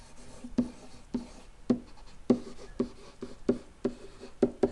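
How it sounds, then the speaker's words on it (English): Pen or pencil strokes writing out a math calculation by hand, a steady series of firm taps and scratches at roughly half-second intervals, close and distinct. "I'm just going to write that again so I don't have to"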